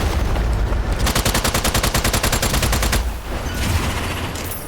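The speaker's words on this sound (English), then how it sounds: "But SMG, you've got enough volume of fire" SMG fire in the Strange Brigade video game, a loud, rapid, evenly spaced automatic burst of about two seconds, set against constant dense battle noise that lingers after the shooting stops.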